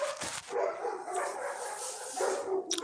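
Dogs bark in the background as a garbage truck approaches, a few faint yipping and whimpering barks heard from a distance.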